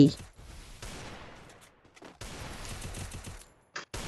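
Gunfire in a Free Fire custom match comes as bursts of rapid shots, with one sharp blast at the start, a long rattling volley, and a short final burst, loud and near.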